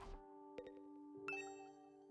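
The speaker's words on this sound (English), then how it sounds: "Is that my doorbell? Who could it be at this hour?" A doorbell chimes inside the video game The Hundred Line, a clean two-tone ding-dong ringing out over quiet background music, close and distinct.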